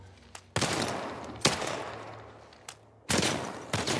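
Sharp bursts of gunfire in The Last of Us Part 1, several loud separate shots and short volleys with fading tails between them.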